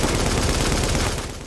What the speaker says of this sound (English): that was another 20 gunshots